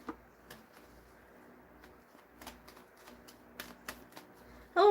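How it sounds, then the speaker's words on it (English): Tarot cards are shuffled and tapped in sparse, light clicks and soft shuffles at close range, ending with a sudden louder burst. "I'll shuffle"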